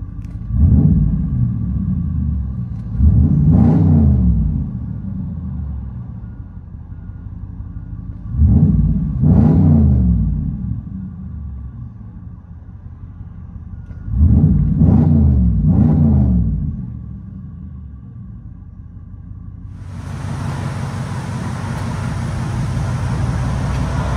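RAM pickup with a 6.4L HEMI V8 and loud exhaust, heard from inside the cab: repeated deep revs in pairs rumble loudly between idle, followed by a steady hiss near the end.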